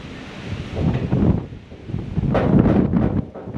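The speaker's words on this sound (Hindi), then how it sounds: "अभी भी चल रही है हवा बहुत तेज़।" Strong wind gusting outdoors during a storm, buffeting the microphone in loud, swelling rushes that rise and fall over several seconds.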